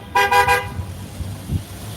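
Car horns honking at a protest outside a criminal courts building: a loud burst of several rapid toots near the start, followed by low traffic rumble, with no voices.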